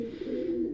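A domestic pigeon with maroon-red feet gives a low, soft coo, a short rolling call heard close by with no talk over it.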